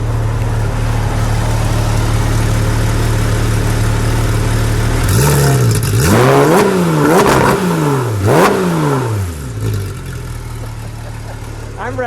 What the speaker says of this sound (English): Give me one rev.